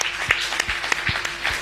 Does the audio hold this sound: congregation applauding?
yes